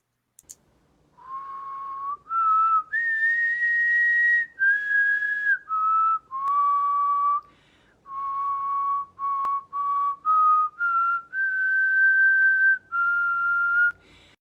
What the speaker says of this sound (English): you get to guess what the song is that they are whistling